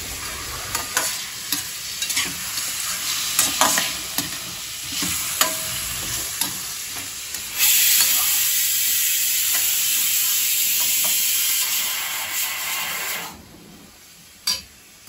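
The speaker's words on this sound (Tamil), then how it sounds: "கொஞ்சம் வதங்கினோடனே தக்காளி 2 போட்டுக்கிறேன்" Tomatoes and onions frying in a pan for pumpkin sambar sizzle up close under repeated spatula scrapes and stirring, then a louder burst of frying hiss that settles and stops near the end.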